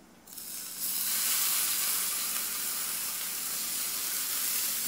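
Chopped onion drops into hot oil in a pan for a cherry tomato sauce, bursting into a loud, steady close-up sizzle that holds for several seconds with no talking.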